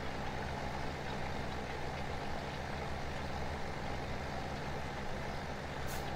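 A tractor engine in Farming Simulator 17 runs at a steady, unbroken drone with a deep rumbling low end and a constant idle-like hum, heard alone for the whole stretch.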